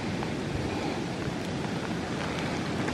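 Hail falling outdoors in New Jersey woodland during a bow hunt, a dense, continuous hiss of pattering impacts mixed with wind noise, loud and unbroken throughout.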